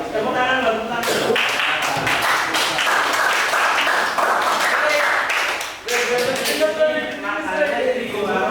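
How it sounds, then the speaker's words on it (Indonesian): Classroom audience applauding at a vocational school session, a dense sustained burst of clapping from many hands that runs through the whole stretch, briefly dipping near the middle, with voices mixed in. "Oke, tepuk tangan dulu,"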